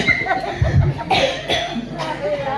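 Several rough coughs in quick succession, close by, with faint background noise and a voice behind.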